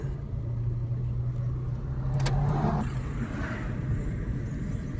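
A car moves slowly in second gear during a driving lesson, a steady low engine rumble with a brief rise in revs and a couple of faint clicks midway, no voices heard.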